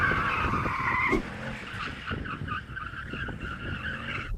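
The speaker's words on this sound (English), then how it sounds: "Then you can do some skids. Oh, it's so easy in the BMW." A BMW in two-wheel drive mode skids with a loud, wavering tire squeal that holds for several seconds over engine noise, close by and with no voices.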